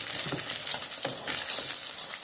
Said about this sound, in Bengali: মাছ ভাজা আমি বসিয়ে দিয়েছি